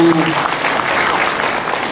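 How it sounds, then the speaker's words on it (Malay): Audience applause for Fabu at a 2020 New Year address, a dense burst of many hands clapping at once, loud and close, holding steady for a couple of seconds. "Oh, tepuk tangan lah supaya Fabu"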